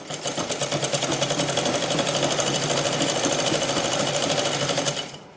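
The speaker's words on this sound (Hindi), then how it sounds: "अब मैं एकदम सीधी सिलाई लगा दूँगी" A sewing machine runs steadily for about five seconds, stitching a straight seam on a petticoat with a fast, even whirring rattle, close and loud, then stops abruptly.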